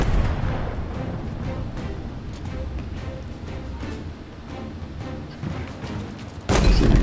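Gunfire rings out in Halo Infinite as a player shoots at a sniper during a campaign mission, with dense rumbling booms and shots throughout and a sharp louder blast at the end.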